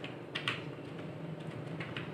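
Computer keyboard typing while building a PowerPoint presentation, a steady patter of light key clicks with a few sharper taps, close and moderately quiet over a faint background hum.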